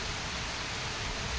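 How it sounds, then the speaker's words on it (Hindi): Rainwater pouring off a roof during a downpour, a steady broadband wash of falling water with no break, fairly loud and close throughout. "ये सब बारिश का पानी है और कुछ पानी छत से आ रहा है।"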